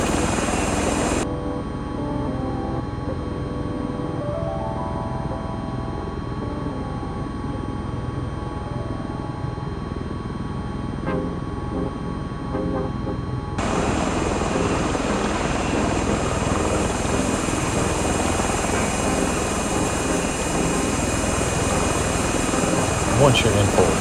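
MV-22B Osprey tiltrotor in Microsoft Flight Simulator during the transition to forward flight, a continuous rotor and engine drone that grows brighter and louder partway through, with speech over it.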